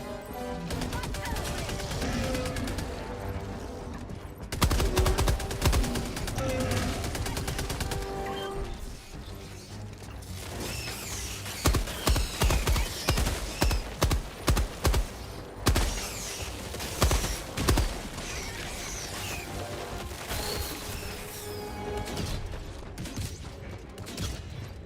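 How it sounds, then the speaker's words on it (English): Chaotic Helldivers battle against a bug breach with dense, rapid bursts of gunfire and heavy blasts, including a self-inflicted mortar hit, overlapping in a loud, continuous clatter with scattered voices underneath. "I just got hit by my own mortar"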